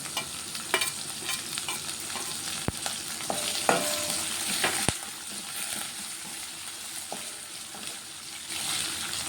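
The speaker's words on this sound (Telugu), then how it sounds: "ఇవన్నీ ఒక రెండు నిమిషాలు ఫ్రై అవ్వాలి" Green chillies, onions and curry leaves fry in hot oil in a pan while making upma, a steady close sizzle with occasional stirring clinks and scrapes, no talking.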